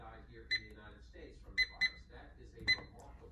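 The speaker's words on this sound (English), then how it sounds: "So I'm going to give it the 5 more minutes on the timer." A kitchen timer being set for five more minutes on a banana loaf gives several short, high electronic beeps spaced irregularly, faint and close, with quiet talk around them.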